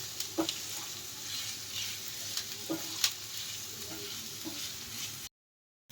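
Onions frying in a pan and being stirred until reddish brown, a steady moderate sizzle with occasional scraping and clinking from the stirring, then an abrupt cut to silence near the end.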